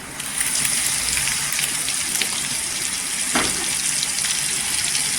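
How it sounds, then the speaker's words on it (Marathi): Raw masala hits leftover hot oil in a pan for egg curry, giving an immediate loud, gushing sizzle that holds steadily with a brief clatter partway through. "आता जो तेल राहिलेला आहे त्याच्यामध्ये आपण मसाला टाकायचा।"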